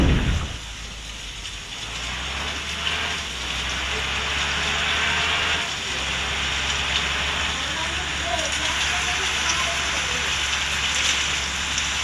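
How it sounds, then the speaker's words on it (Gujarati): Rain falls steadily in a continuous close wash of patter with a low rumble beneath, like a vehicle engine. "મિત્રો વરસાદ આવી ગયો છે"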